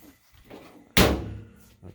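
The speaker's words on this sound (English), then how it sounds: "I'll close the door." A laundry machine door slams shut once with a loud, close thud, after quiet rustling of someone loading a blanket and pillowcases.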